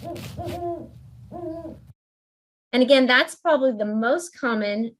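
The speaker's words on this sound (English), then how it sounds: "And so here's our great horned owl." Recorded great horned owl calls, deep muffled hoots in short rhythmic series played fairly close, with a person talking after the first calls.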